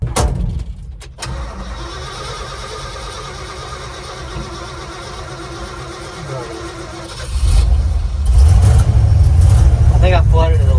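A carbureted Ford F-350 pickup engine cranks and catches, settling into a loud, rough idle after a sharp start, then revving up louder toward the end, close to the microphone, with a voice briefly heard.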